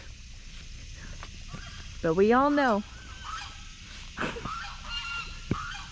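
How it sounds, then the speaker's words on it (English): A goose lets out a loud, repeated honking burst at a lake, with a voice speaking briefly nearby over an outdoor background. "Let's try to get some good footage of these geese."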